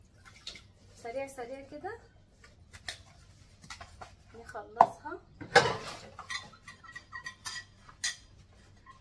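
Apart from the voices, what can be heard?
washing dirty dishes by hand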